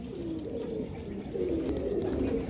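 High-quality breeding pigeons kept for sale coo nearby, a steady stream of low, throaty coos that runs through the whole stretch with no talking.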